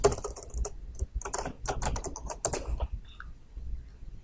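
Fingers type rapidly on a computer keyboard in quick, uneven bursts of crisp key clicks close to the microphone, followed by a short pause and a few final taps.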